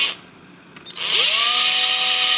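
A small 1/8 inch drill bit spins up and bores into a part during a Tarot 450 Pro V2 helicopter build, starting after a short quiet pause with a loud, steady whine close by.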